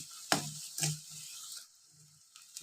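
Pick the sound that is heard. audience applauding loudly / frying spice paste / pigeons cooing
frying spice paste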